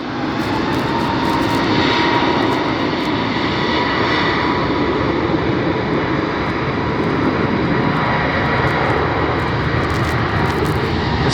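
A TAME jet airliner flying past at Los Angeles International Airport, its engines a loud, steady roar that holds evenly throughout, close and alone without any talk.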